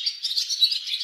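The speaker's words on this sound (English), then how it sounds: "Can you hear the birds?" Faint high-pitched bird chirps in quick succession, a short twittering burst in otherwise quiet surroundings.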